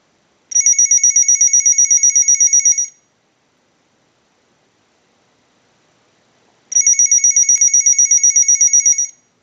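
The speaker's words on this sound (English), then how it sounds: "use the analyzer and send a ring cycle like you were getting a call" A Harris TS22A lineman's telephone rings from an analyzer's ring cycle: two loud, steady bursts of rapid electronic trilling, each about two seconds long, separated by several seconds of silence.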